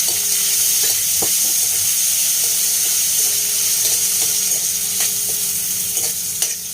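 Tomatoes sauté in a pan for sweet-and-sour mung dal, giving a loud, continuous close sizzle broken by occasional clinks and scrapes of stirring, with no voices.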